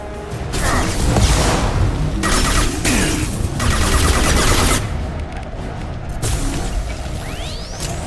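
A heavy weapon firing in Mass Effect 2, loud bursts with whooshing projectiles and crashing impacts in several surges, then a rising whistling sweep near the end.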